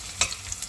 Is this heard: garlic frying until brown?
yes